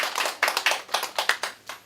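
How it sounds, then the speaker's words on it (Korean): Scattered clapping from a lecture audience, a short burst of roughly a dozen distinct, fairly close hand claps in an uneven rhythm that thins out and fades toward the end. "박수 한번 쳐주시면."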